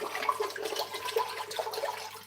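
Water pours steadily from a tap into a container, a continuous close splashing hiss with no pauses and no voices.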